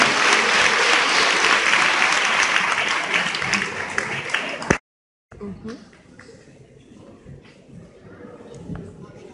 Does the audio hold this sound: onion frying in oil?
no